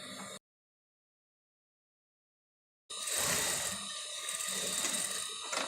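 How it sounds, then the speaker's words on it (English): Sewing machine stitching a seam on a princess dart blouse, a brief burst of running motor, a pause, then a longer steady mechanical whir with rapid needle clatter. "then I'm going to be sewing 1/2 inch here"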